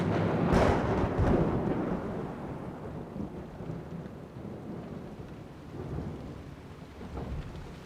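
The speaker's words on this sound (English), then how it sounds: "a powerful storm hit Gallipoli" A powerful storm over the Gallipoli peninsula brings heavy rain hissing steadily and close, with a low thunder rumble at the start that fades into continuous downpour.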